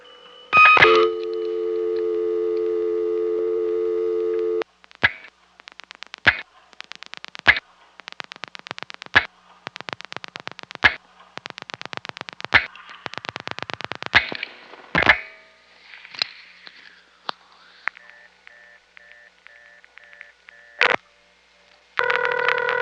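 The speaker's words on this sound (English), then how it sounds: "get the sounds of this classic Bell System 3-slot coin phone on tape" A classic Bell System 3-slot coin payphone of 1974, with coins dropped in, a steady dial tone, rapid bursts of dialing pulses and then call-progress tones and clicks, all close and clear with no talking.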